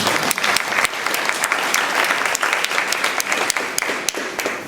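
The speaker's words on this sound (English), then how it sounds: "So I want to give him a round of applause." A steady round of applause fills a community health forum hall, with dense, even clapping from the gathered audience and no talking over it.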